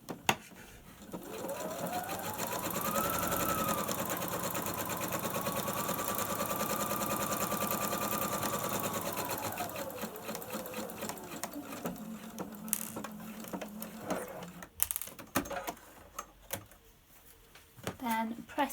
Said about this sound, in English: Sew a seam, 15mm seam from that point to the bottom.